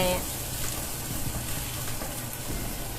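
Onion and carrot stir-frying in a pan for a Korean-style potato dish, giving a continuous close, loud sizzle with a faint stirring texture throughout.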